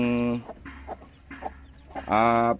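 A hen that has just laid an egg clucks and squawks nearby in short, loud bursts with quieter calls in between.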